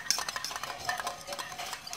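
Stirring a shiitake mushroom mixture in a bowl for a steamed mushroom dish, with soft, steady scraping and clinking of a utensil against the dish throughout, continuous and close.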